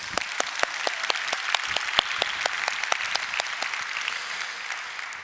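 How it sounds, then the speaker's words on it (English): A conference audience at the EthCC opening ceremony in Cannes claps steadily, a sustained, fairly even round of applause with distinct sharp claps audible throughout and no talking. "So please give a round of applause for those two big partners of us."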